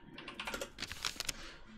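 Rapid typing on a computer keyboard while searching for an item in the game Minetest, a close, quiet flurry of irregular key clicks.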